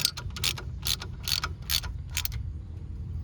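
Bolts being tightened on the rear differential of a 2007 Cadillac SRX, heard as a series of quick metallic ratchet clicks in short bursts over a low mechanical rumble, close and fairly quiet, with no talking.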